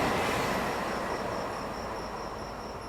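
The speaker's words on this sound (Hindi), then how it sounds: "आई होप आपको दर्शन सुपरफास्ट एक्सप्रेस का स्किप मज़ा आया होगा देखने में" The Darshan Superfast Express rushes past at high speed, a loud, steady roar of wheels and carriages that fades slightly as it goes, with a faint high squeal above the rumble.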